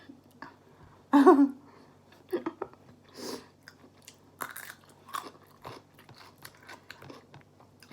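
Close-up eating of mushrooms dipped in chili paste: one loud crisp bite, then a run of softer crunches and wet chewing, with no talk.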